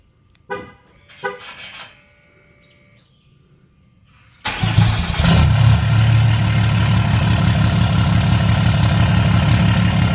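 A Cummins 6.7 diesel with a 4-inch turbo-back exhaust and muffler delete gives a couple of clicks, then fires on a cold start at about four seconds and settles into a loud, steady, rumbling idle.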